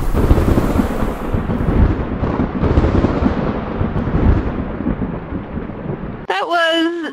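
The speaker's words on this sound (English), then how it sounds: "That's a bolt of lightning right there." A thunder sound effect for a lightning bolt in a stage show, a loud rumbling crash that rolls on and fades over several seconds before a voice cuts in.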